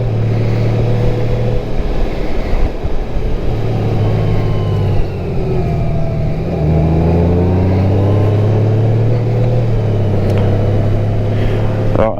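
A 2024 Honda Goldwing motorcycle rides along with a loud, smooth engine drone and rushing wind, pitch rising and falling gently as it accelerates, with a rider talking over it.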